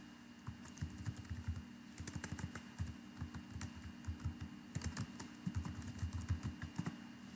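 Soft rapid clicking of a computer keyboard while a file name is typed, close and quiet, in irregular bursts of keystrokes with no talking.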